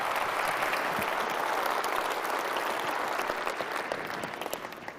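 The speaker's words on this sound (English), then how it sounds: "Round of applause for Rick." Sustained applause from a large press-conference audience at Sony's E3 2005 event, dense steady clapping that fills the room and begins to thin and fade toward the end.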